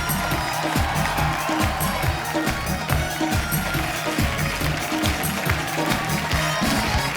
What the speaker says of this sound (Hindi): सबसे पहले तो कॉमेडी के बेताज बादशाह राजू श्रीवास्तव, उनके लिए जोरदार तालियां।